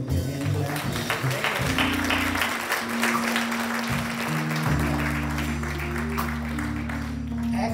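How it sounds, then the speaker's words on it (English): Congregation clapping hands together in church, a steady wash of applause filling the room throughout, with sustained organ or keyboard tones underneath. "bless them with your hand clap."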